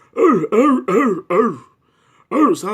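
A voice imitates loud, harsh coughs: four quick barking bursts, a brief pause, then one more.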